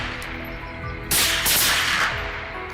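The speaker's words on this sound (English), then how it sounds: "Gunshots rang out, each hog dropping swiftly to the ground." Several sharp rifle or gun blasts crack out during a wild boar hunt, two or three loud reports in quick succession with reverberating tails, over a steady outdoor background.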